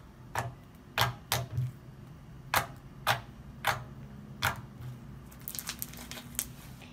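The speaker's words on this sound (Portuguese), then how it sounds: "Ela faz clique." Slime made with Acrylex glue and a bit too much activator gives a series of sharp, irregular clicks and pops as it is squeezed and stretched, close and fairly loud against a low hum.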